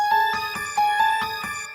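A phone ringtone plays a bright electronic melody of sustained tones in a repeating short pattern, clear and fairly loud with no voices over it.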